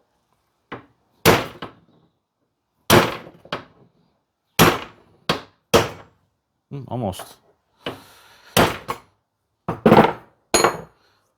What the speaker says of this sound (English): Little hammer trick.